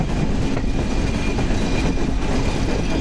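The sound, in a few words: passenger train (Padma Express) curving left on the rails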